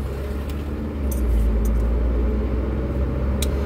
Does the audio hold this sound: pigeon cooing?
no